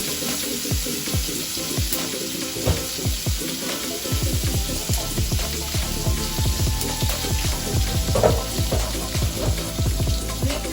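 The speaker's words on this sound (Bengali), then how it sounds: "এর মধ্যে আমি টমেটো, আদা, সর্ষে পোস্ত সব এটাকে আমি ভালো করে ভেজে নেব।" Tomato, ginger, mustard and poppy seed paste frying in a pan, with a dense sizzle and repeated clacks of a spoon stirring against the pan, loud and close throughout.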